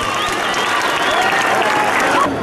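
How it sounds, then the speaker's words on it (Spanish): Strong crowd applause at the opening of an international classical music festival in Santander de Quilichao, a dense and even burst of clapping throughout. "Un fuerte aplauso"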